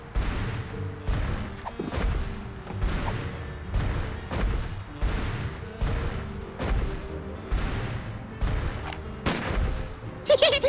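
Video game gunfire in Sam & Max: The Devil's Playhouse, a rapid run of loud sharp shots and booms repeating roughly every second over a rumbling background.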